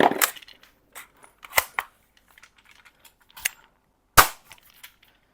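Lee Enfield No.1 Mk III bolt-action airsoft BB gun with a real wood stock, fired in single shots: four sharp, snappy cracks spaced apart, with small mechanical clicks of the bolt between them.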